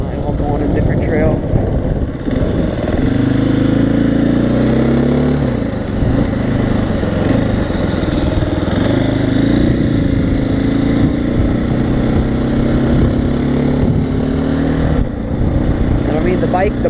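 A 2015 Husqvarna FE 501s dirt bike engine runs steadily and loudly throughout while riding on trails, with its drone rising and falling slightly as the throttle changes.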